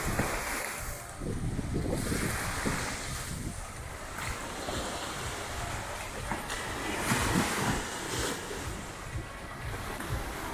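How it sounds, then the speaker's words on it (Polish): Large sea waves surge and wash off Isla Grande in Colombia, a broad continuous roar of surf with wind buffeting the microphone close by, swelling and easing without a break and no voices. "dzisiaj są duże fale, może być kłopot"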